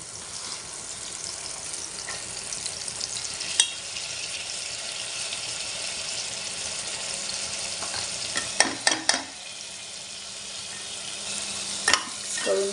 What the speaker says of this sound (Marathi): वाटण थोडंसं शिजू द्यायचं कच्चं नाही ठेवायचं चांगलं परतून घ्यायचं